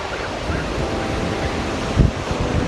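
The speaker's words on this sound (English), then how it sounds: "There's the ocean." Broadband ocean surf on the North San Diego County coast, a steady wash of waves mixed with wind noise across the microphone, with a slightly louder surge near the end and no speech.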